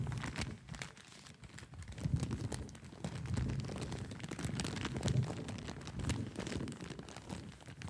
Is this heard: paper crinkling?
yes